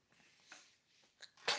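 A person sneezes once, a sharp, close burst at the end that follows soft breathy sounds and faint quiet noises.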